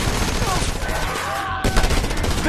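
Loud gunfire in the Just Cause 2 video game, a dense burst of rapid shots and explosions with a voice shouting over the chaotic, sustained combat noise.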